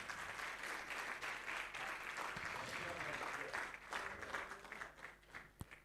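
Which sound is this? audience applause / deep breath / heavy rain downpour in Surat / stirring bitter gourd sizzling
audience applause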